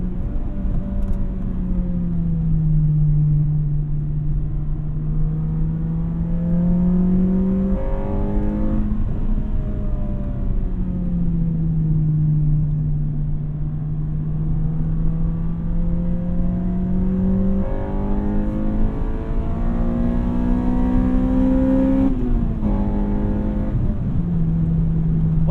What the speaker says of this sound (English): the VTEC kickover, you hear it and you feel it a little bit